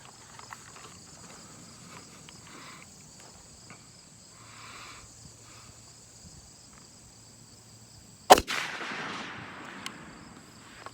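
A Springfield 1903A1 rifle fires a single loud, sharp shot on an outdoor range, its crack and short echo breaking through a steady chorus of crickets and insects.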